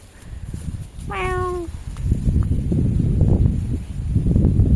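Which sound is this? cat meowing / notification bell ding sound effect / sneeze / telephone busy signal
cat meowing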